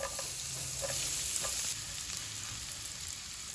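Garlic hits a pan where ginger is already browning, giving a steady bright sizzle with a few soft knocks of the spoon, close and continuous with no voices.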